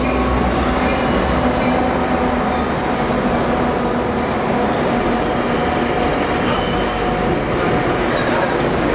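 A train rumbles past close by, a steady loud roar of rail noise with faint squealing wheels, no voices.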